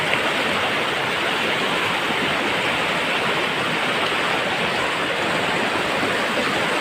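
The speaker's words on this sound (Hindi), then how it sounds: "शायद पहाड़ की तरफ बारिश आया इसलिए पानी ऐसा आ गया" River water rushing hard and swollen white after rain in the hills, a loud, steady broadband roar filling the whole stretch without a break.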